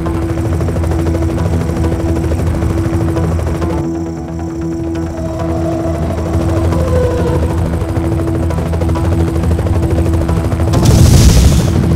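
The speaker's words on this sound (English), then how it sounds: "Michael, the helicopter will not be able to follow us into the tunnel." A helicopter in the video game Knight Rider 2 on PS2 gives a loud, continuous rotor drone across the whole stretch, dipping briefly near the middle and ending in a burst of noisy impact.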